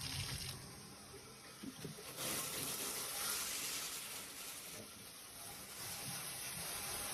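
Shower water runs steadily in an apartment unit and drains away, a continuous broadband rush that stays loud and close throughout with slight swells.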